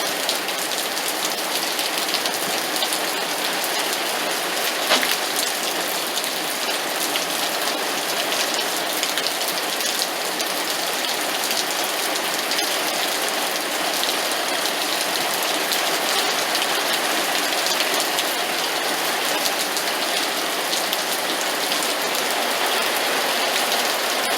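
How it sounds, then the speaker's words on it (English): Steady, heavy rain pours down in Las Vegas, a dense, even hiss that holds at the same loudness throughout with no voices. "There it is, look at that, rain in Vegas."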